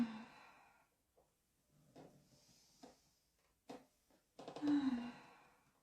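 Slow, deep breaths during a somatic breathing and stretching exercise: a long airy exhale fades out, then scattered soft breaths and a stronger gusty release near the end, all quiet and close.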